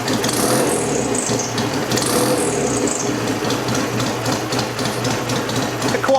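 A BSA Gold Star RGS motorcycle engine runs close and loud in a workshop, giving a fast, even mechanical twittering and ticking that stays steady throughout with no talk.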